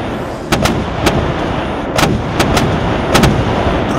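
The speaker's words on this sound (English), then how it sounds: "French batteries fire." French artillery batteries firing cannons in a Waterloo-campaign battle at Gilly: a series of sharp, loud booms at irregular intervals, some in quick pairs, over a steady rumbling battlefield background with no talk.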